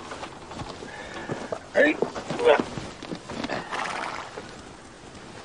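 A horse in a Western setting neighs and whinnies while its hooves clip-clop nearby, with a short spoken word and voices mixed in.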